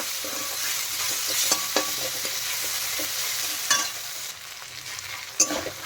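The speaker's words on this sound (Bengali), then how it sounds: "দিয়ে এখন ভালো করে নেড়ে চেড়ে একটু কষিয়ে নেব" Ginger-cumin paste stir-fried with onion and garlic in a hot pan gives a steady soft sizzle, broken by several sharp scraping stirs of a spatula.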